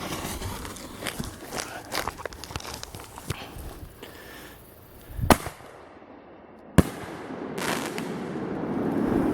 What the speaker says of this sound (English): I got 2 pink flamingo shells here in the center. Let's go ahead and hit this off and see if we get any jump.